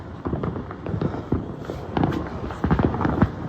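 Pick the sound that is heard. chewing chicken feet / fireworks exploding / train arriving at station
fireworks exploding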